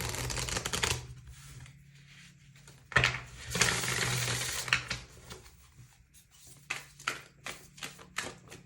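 Riffling tarot card shuffles close by, bursts of quick crisp flutters and snaps with brief pauses between, loud and alone without any talking.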